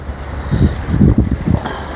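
A houseboat moving on the Vembanad backwaters at Alleppey, a close low rumble of wind buffeting and water wash rising and falling over about two seconds.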